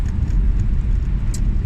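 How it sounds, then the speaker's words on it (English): Cars pass on a road in a steady, close roadway rumble of engines and tire noise, with no voices. "Passing cars."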